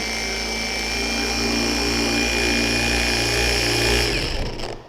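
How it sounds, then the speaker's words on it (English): A Harbor Freight Hercules cordless orbital car polisher runs at a mid speed setting, giving a steady, loud motor whir with a constant hum that winds down abruptly near the end as its battery dies. "Set the polisher. I like it between the 3rd and the 4th speed setting."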